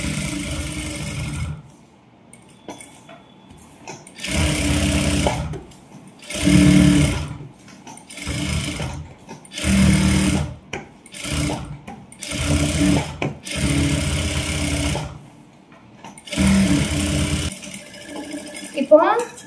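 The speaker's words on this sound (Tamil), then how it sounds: "லைனிங்ல சுத்தி தையல் போட போறோம்." A sewing machine stitches around a silk blouse lining in repeated loud bursts of rapid whirring, separated by short quiet gaps, with someone talking at times between runs.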